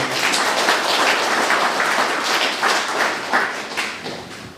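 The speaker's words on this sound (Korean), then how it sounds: "우리 보훈처에 박수 한번 쳐주세요." A crowd at a Korean veterans' gathering claps for the veterans affairs office, producing a sustained, moderately loud patter of many hands with slight swells, fading a little toward the close.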